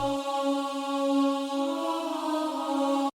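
Sustained chorus synth layer from a song mix, a steady bright harmonic chord ringing alone without voices for about three seconds before cutting off abruptly.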